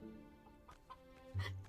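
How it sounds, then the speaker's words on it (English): Chickens in the video game Murders on the Yangtze River give a few faint, quick clucks over a low background hum, ending in a slightly louder cluck. "Look, Shen, there are 2 free-range chickens here."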